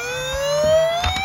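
A battery-powered toy fire truck wails with a bright electronic siren tone that rises steadily, loud and close, with a couple of clicks near the end.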